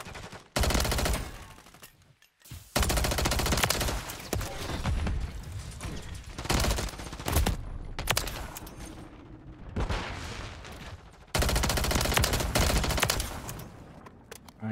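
Gunfire from the Striker 9 in Modern Warfare 3, dense rapid bursts of automatic shots in several long strings separated by short gaps, loud and close with mechanical clatter between volleys.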